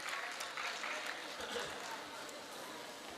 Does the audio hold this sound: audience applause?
yes